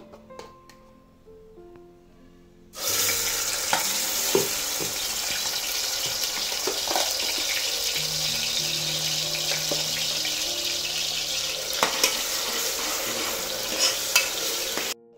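Blended masala paste for mutton curry hits hot oil after a quiet start, then sizzles and fries steadily while being stirred, with scraping and clatter of the spoon against the pan throughout.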